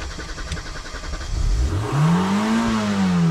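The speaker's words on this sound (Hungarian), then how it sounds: "üljetek be és indítsátok el az autót" A Suzuki Swift race car engine cranks and catches, then revs up with rising pitch and settles into a loud, close, throaty idle. A faint clatter comes before the start and no one speaks.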